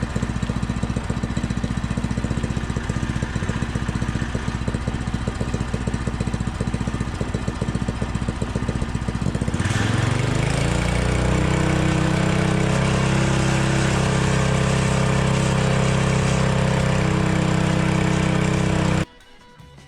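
A small minibike engine with a Tillotson 212 aftermarket exhaust runs loud and close, revving steadily before settling into a throaty, rumbling idle that continues until it cuts off abruptly near the end.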